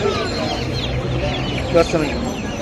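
Domestic chickens cluck at Kaptan Bazar poultry market, faint and scattered within a dense, noisy crowd, with voices talking nearby.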